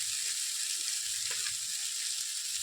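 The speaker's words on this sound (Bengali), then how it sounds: "আর এই চাউমিনগুলো এখন এর মধ্যে দিয়ে দিচ্ছি" Chow mein noodles fry in a pan with a steady, close sizzle and a few faint stirring scrapes, with no talking.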